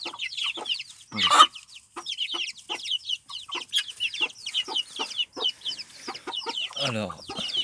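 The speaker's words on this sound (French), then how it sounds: "Et en dessous, il y a une poule avec 3 poussins" Hens cluck and chatter continuously up close in a hutch with chicks, with busy overlapping calls and a louder squawk near the start.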